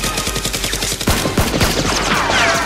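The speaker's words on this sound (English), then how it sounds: "Rose grabs a gun and shoots at them as well." Rapid gunfire in a staged Nerf war battle against a criminal gang, a fast rattling string of shots up close that gives way to several separate louder bangs and a brief whooshing sweep at the end.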